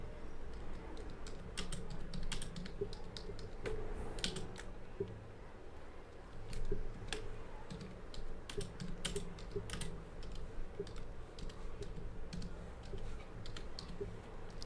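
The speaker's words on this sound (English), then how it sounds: "It's because I'm typing with one hand right now." Computer keyboard typed with one hand, producing quiet, irregular bursts of key clicks in short clusters separated by pauses, close but faint over a low background hum.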